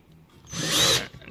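Power drill boring through sheet metal in a jobshop, one short whirring burst about half a second long that rises and cuts off, close and loud.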